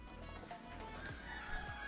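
Chickens in a backyard coop making faint, scattered clucks and low murmurs, heard at a distance beneath a steady hum of background noise.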